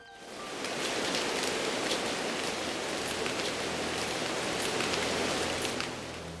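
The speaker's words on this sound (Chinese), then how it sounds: "在他死后，大雨下了 7天7夜" Heavy rain pours down steadily in a dense, even hiss of countless drops that stays at the same loud level for the whole stretch, with no voices or other sounds above it.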